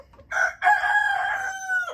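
A rooster crows loudly and close, one long drawn-out call that begins with a short note and ends in a falling tail.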